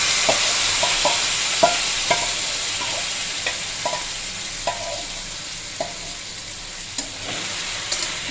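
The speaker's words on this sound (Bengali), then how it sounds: "এবার ডালের সাথে আলুটাকে ভালো করে নাড়াচাড়া করা হচ্ছে" Lentils and potatoes stirred together in a frying pan for soybean khichuri, a loud constant sizzle punctuated by regular sharp spatula scrapes and taps against the pan.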